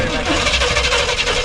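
Engine of an abandoned Squarebody truck, long sunk into the earth, running with a rough, steady rumble close by while someone talks over it.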